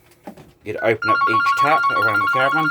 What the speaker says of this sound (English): Do apologise for the phone.